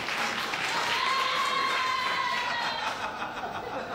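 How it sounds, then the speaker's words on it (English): Studio audience applause at a 1969 television talk show taping, a steady wash of clapping with some light laughter mixed in, filling the room at moderate level throughout. "the stagehand gets applause, I get nothing"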